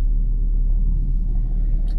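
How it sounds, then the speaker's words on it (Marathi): A car backing up on the way to the Pune–Mumbai highway, a steady low engine rumble close by with no voices, ending in a faint click. "चलो गाडी मागे घेतो."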